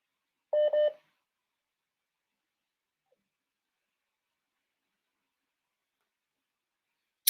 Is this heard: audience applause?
no